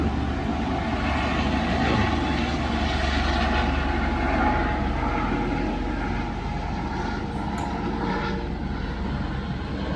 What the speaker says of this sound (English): I wish that helicopter would leave before he scares them.